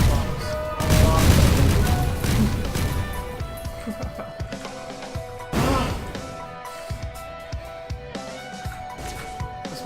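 Melon bombs in the Risk of Rain video game burst as heavy booming blasts, loudest at the start and again midway, followed by scattered smaller pops and hits as the fight goes on.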